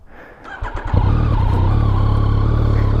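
A 2022 Yamaha XSR900 motorcycle with a worn rear tire, its engine starting with a few quiet clicks before catching into a loud, steady, close-up running rumble.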